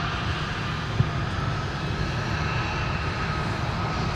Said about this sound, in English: Here's our next Delta mainline arrival. From Salt Lake City, Alex. It was 321 Airbus.